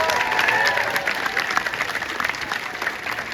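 Audience applause for a swimmer at a senior swim team walk, steady dense clapping with crowd noise sustained throughout, loud and close.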